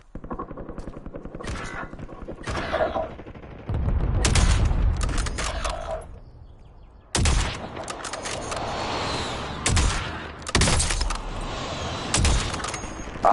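Gunfire in Call of Duty Warzone: rapid automatic bursts and fast shot volleys, loud and close, with short pauses between clusters of shots and some booming impacts layered in.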